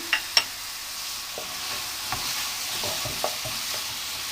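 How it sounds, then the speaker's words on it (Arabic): Onion with salt sautés in table oil, giving a steady soft sizzle with a few light scrapes and taps of a utensil against the pan, close and continuous without voices. "غنخليوها كتشحر على هذا الشكل حتى كتهبط مزيان في البصله"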